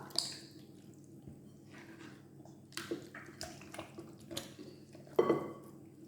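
Raw whole chicken being stuffed by hand through the neck cavity for a Moroccan roast chicken dish, giving soft wet squishing and dripping sounds with a few light knocks of dishes, close and quiet, no talking.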